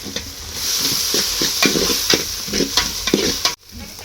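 A spiced egg mixture is stirred in a hot pan, giving a steady close sizzle with a run of rhythmic scraping strokes. It cuts off abruptly just before the end.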